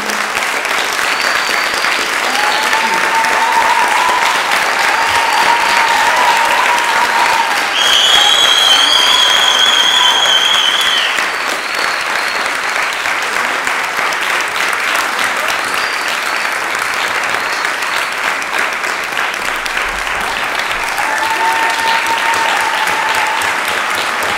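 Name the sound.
concert audience applause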